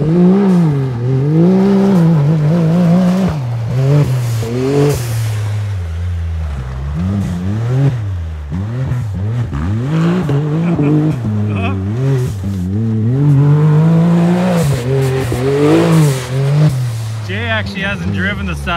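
Side-by-side UTVs with a souped-up engine and new tires racing through frozen, icy mud, engines revving and droning loudly and continuously, rising and falling in pitch with throttle changes.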